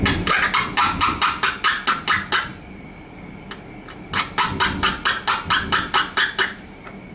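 The two needles of a LONGRAYFOG Enrich fogger machine are ground in two bursts of rapid, evenly spaced sharp scraping strokes, about ten in each run, separated by a short pause with a faint ringing tone.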